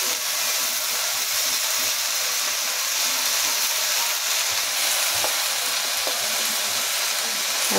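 Bathua greens dropped into hot oil in a pan after fried potato and brinjal, a loud steady sizzle and hiss with faint stirring clicks throughout.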